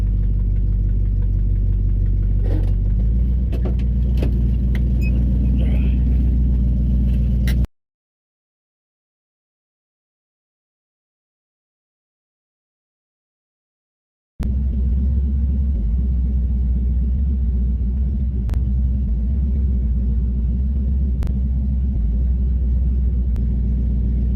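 Low, heavy engine rumble from a 1969 Buick Skylark GS on a test drive, steady and close, with a silent gap in the middle before the rumble resumes.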